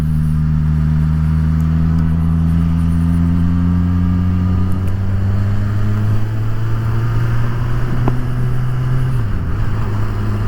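A Suzuki Katana 1000 motorcycle engine hums steadily while riding, a loud continuous drone whose pitch rises slightly and then dips near the end as the revs shift, with no voices.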